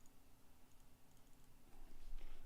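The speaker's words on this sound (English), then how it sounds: "I don't know why I'm typing that in" Computer keyboard typing while a search is entered during a social media tutorial, a faint, quick patter of key taps with a slightly louder, busier stretch near the end.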